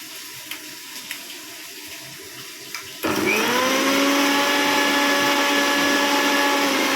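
An electric blender grinding pointed gourd seeds starts abruptly after a few quiet seconds, then runs loud and steady with a high whining motor tone.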